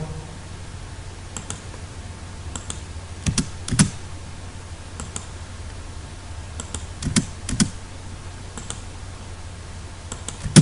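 Typing on a computer keyboard while entering AutoCAD commands, with scattered sharp key clicks and small bursts of presses spread over a quiet room background.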